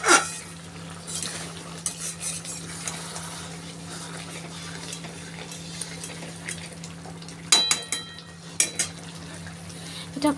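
Meat curry cooking in a pan in a small home kitchen, with soft stirring and low background noise, then a few sharp clinks of a utensil against the pot near the end.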